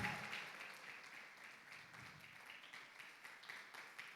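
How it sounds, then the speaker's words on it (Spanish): A church congregation claps and applauds in praise, a steady wash of many hands at moderate distance with scattered sharper claps throughout. "Dale un aplauso al Señor"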